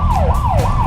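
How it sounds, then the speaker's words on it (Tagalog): An emergency vehicle siren from an SUV in traffic, loud and close, wailing up and down in rapid repeated sweeps about three times in a second, with steady engine rumble underneath. "Sandamakmak na wangwang."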